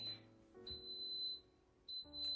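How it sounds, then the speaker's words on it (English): A yogurt maker gives two electronic beeps when done, each a steady high tone about a second long, separated by a short pause over a faint background hum. "It's beeping, so it's ready to go."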